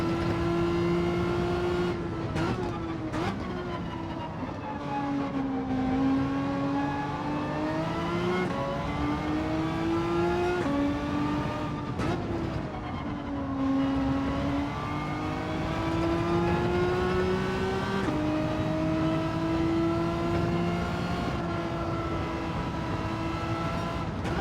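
A Renault Megane race car in Gran Turismo 7 at Brands Hatch drones through a daily race, its engine note steady and close, rising and falling with gear changes and throttle lifts for the whole stretch.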